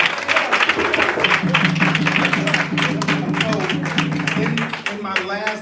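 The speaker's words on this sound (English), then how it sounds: "Can somebody just clap right there?" A room at a Kwanzaa celebration breaks into clapping, a dense burst of hands beneath and alongside a prominent voice and background murmur, with a sustained musical or tonal drone running through the middle.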